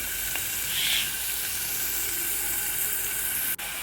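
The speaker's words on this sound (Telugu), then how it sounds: "ఆ నూనె తీసి ఇంకో బాండీలో వేసానండి. వేసి ఉల్లిపాయ వేస్తున్నాను." Onion frying in oil in a pan, giving a continuous, fairly loud hiss and sizzle close by, with a brief clink near the end and no voices.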